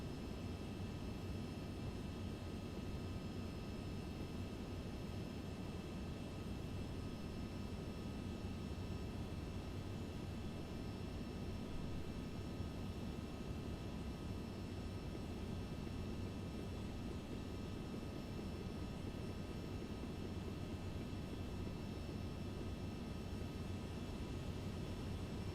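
Steady, unbroken roar of Flysimware Falcon 50 jet engines in cruise flight within the P3Dv4.5 simulator, a broad constant drone with faint tonal whine held throughout, no voices.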